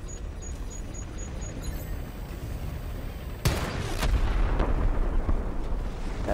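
Heavy tank cannon fire in the Batman Arkham Knight video game, a loud booming blast breaking in midway and followed by a few more rumbling impacts over a dense steady battle din.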